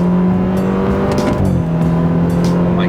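A modified car accelerates hard, its loud aftermarket exhaust droning steadily as the engine pulls at high speed, with a brief pitch shift midway and no voices.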